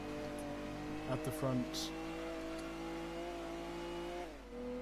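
A Venturi race car in Gran Turismo 2 on PlayStation, a steady droning engine note that shifts pitch while someone talks over it, with brief tire and gear sounds mixed in.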